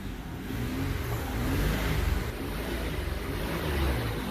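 A 1994 Isuzu Rodeo engine held at half throttle, running rough and smoking, gives a loud, close, steady rumbling drone that swells slightly and stays uneven, with no voices.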